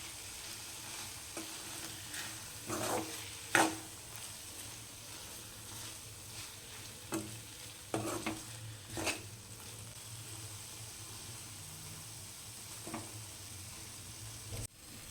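Tomato bread toast frying in a pan while cheese melts on top, a faint, steady low sizzle with scattered light clicks and scrapes from a utensil.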